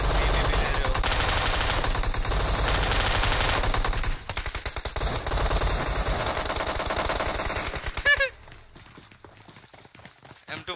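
M249 machine gun fire in a shooter video game, loud rapid bursts running for about eight seconds and then cutting out, followed by quieter clicks and game sounds.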